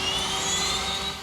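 Fighter jet engines spool up steadily near a runway, a loud sustained whine with a rising high tone and steady low rumble, no voices.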